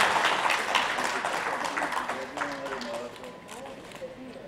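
Audience applause for Dharmendra at the Pride Of India Summit 2016 award event, a steady round of clapping in a large hall under a loud announcer's voice and background music, fading slightly toward the end.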